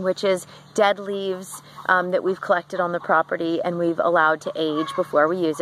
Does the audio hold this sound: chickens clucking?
yes